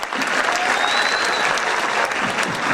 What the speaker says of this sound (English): Ladies and gentlemen, let's give a round of applause